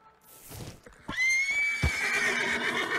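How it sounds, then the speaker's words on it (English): A horse rears and gives a loud, shrill whinny in the Red Dead Redemption video game, rising sharply and holding with a few hoof thuds beneath it. "You've unlocked rearing with the horse."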